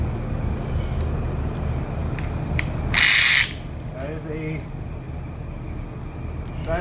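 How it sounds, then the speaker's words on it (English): Ratchet wrench spinning with the wrong-size socket slipping on a 13 mm bolt during engine and transmission removal, a short loud burst of metallic clicking and grinding in the middle, with workshop noise before and after. "That is the sound of the wrong socket."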